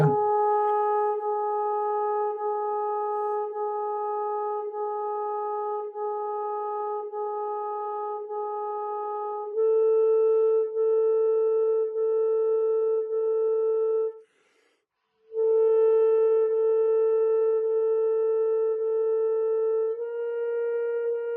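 Long sustained reed tones with very short tongued breaks, moving up in steps, one brief pause midway; solo and close.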